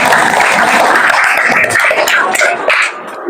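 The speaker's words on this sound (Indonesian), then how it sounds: "Kasih tepuk tangan." Students in a classroom break into loud, dense clapping that holds steady for a few seconds before thinning out at the end.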